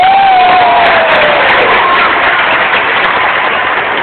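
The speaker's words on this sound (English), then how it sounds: "Let's give both ourselves a big round of applause." A crowd at a zoo dolphin show claps and cheers, a loud, continuous roar of applause and shouting voices with a brief whistle-like tone at the start, sustained evenly across the stretch.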